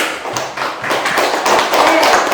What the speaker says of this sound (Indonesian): Tepuk tangan untuk Indah dulu